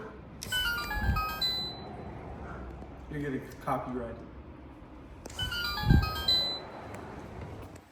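Japanese-style electronic door chime rings out in bright melodic tones, repeating in a few short sequences with quieter gaps between, while a person talks over and around it.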